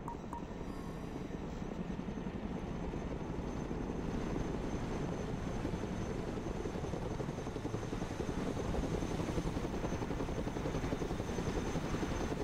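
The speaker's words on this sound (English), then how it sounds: "Let's go and recover it with our helicopter." A cargo helicopter in the video game Broken Arrow flies steadily, its rotor thrum and engine drone loud and continuous throughout, with no talk.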